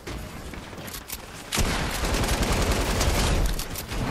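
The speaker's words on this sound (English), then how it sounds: "LMG, baby." A light machine gun rattles in Fortnite, a dense, loud continuous burst of automatic fire that swells sharply partway through and keeps hammering to the end.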